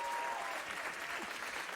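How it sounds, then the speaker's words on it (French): A French game show studio audience applauds a contestant, a brief, fairly quiet patter of clapping that stays steady throughout. "on vous applaudit, Gabriel"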